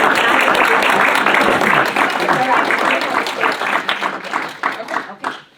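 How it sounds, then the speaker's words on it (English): Audience applause for a woman fills the room, a crowd clapping loudly that thins out and tapers off over several seconds, with voices mixed in. "Let's give her a big round of applause."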